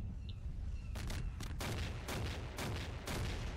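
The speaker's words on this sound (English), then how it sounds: "Oh boy, another tank's destroyed." In a Garry's Mod battle between Star Wars AT-STs and modern military tanks, a tank is destroyed amid a string of loud, booming blasts that land in irregular bursts over a rumbling background.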